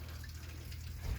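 Water from a garden hose runs into a toilet bowl in a brief, steady rushing gush that swells slightly at the end.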